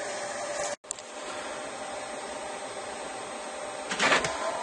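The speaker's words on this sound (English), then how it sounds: "I'm just doing a test 6x8 print" A Mitsubishi CP-K60DW photo printer prints a 6x8 test print with a steady mechanical whir and hum, broken by a brief click near the start and a louder rattling burst toward the end.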